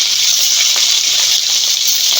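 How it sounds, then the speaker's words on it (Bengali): Taki fish frying in very hot soybean oil in a wok, a loud, steady, dense hiss of sizzling that runs unbroken throughout. "তেলটাও অনেক গরম হয়ে গেছে এখন মাছগুলো দিয়ে দেবো"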